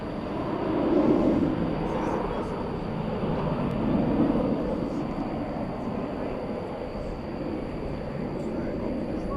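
Singapore Airlines cargo Boeing 747-400 taxiing at night at DFW Airport, a steady low jet engine rumble and roar heard from a distance, swelling slightly and holding constant throughout.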